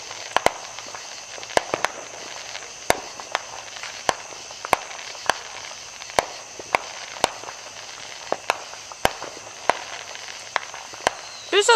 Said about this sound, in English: There's a lot of fireworks where we live in Uglytown.